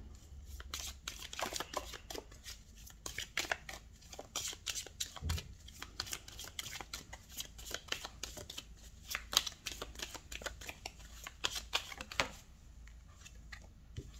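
Tarot cards are shuffled close to the microphone, with quick, rhythmic papery slaps and clicks repeating steadily throughout, fairly quiet and with no talk.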